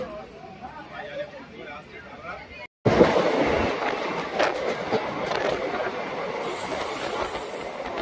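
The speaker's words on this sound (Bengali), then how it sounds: "ট্রেন ছেড়ে দিয়েছে" A departing train pulls out of Howrah station, a loud steady rumble and hiss of rolling carriages after a brief cut, with voices talking faintly over the noise.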